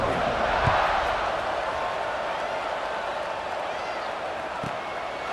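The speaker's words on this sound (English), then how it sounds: "this crowd now ready to get behind them" Steady stadium crowd roar in the College Football 26 video game, a broad continuous wash of cheering at kickoff with a few brief claps and shouts over it, medium loud throughout.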